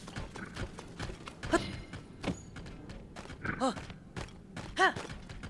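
A skeleton horse in Zelda: Tears of the Kingdom clops its hooves in uneven thuds, with short whinny-like calls rising between the steps.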